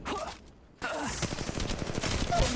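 A stuttering volley of automatic gunfire from an Apex Legends Mobile fight follows a brief quiet gap and continues steadily to the end as a dense rattle of shots.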